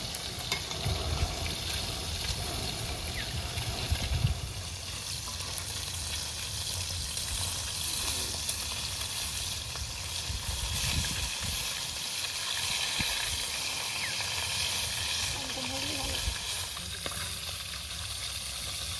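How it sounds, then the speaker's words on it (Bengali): Pieces of katla fish fry in hot oil at an outdoor picnic, giving a steady, dense sizzle and hiss that continues without break, close and loud with no talking. "আর এক সাইডে মাছ ভাজা হবে, এক সাইডে কাঁচা থাকবে।"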